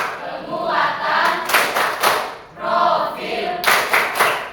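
An audience claps hands in two bursts of rhythmic applause, loud and close, with a brief pause between them as a crowd of schoolchildren claps on cue at an event.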